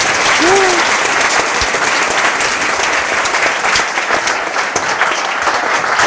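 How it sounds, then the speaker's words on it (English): An audience at a running camp gives runner Kyle Merber a loud, sustained round of applause, a thick continuous clatter of many hands, with a brief voice and cheer near the start. "I think Kyle deserves an extra round of applause for being out."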